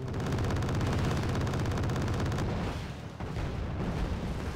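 Roland 3 missiles and Gepard A1 autocannons fire anti-aircraft rounds in Wargame: Red Dragon, a loud, fast, evenly pulsing cannon chatter that runs steadily, then gives way to a rumbling blast and lingering battle noise.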